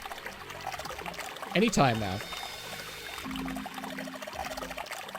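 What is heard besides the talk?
water pouring from a faucet in the video game 999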